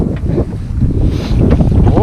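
Strong wind buffets the microphone at open sand dunes, a loud low rumbling roar with gusts, and a voice briefly heard over it.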